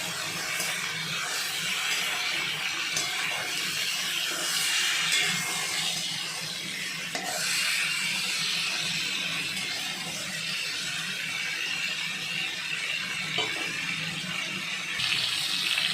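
Pieces of pointed gourd (potol) fry in a pan, giving a continuous soft hiss and crackle that holds steady the whole time, with no talking.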